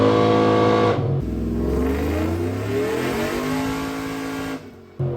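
A supercharged 2014 GMC Sierra with a 5.3 V8 and BTR 220 cam revs hard on a dyno, its engine note climbing steadily in pitch for several seconds before cutting off sharply, loud and close.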